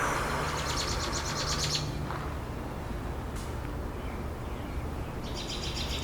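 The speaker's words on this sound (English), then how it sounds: "while you listen to the birds singing in my backyard" Birds sing in a backyard, faint chirping phrases coming and going over a steady, quiet outdoor hush, with no talking.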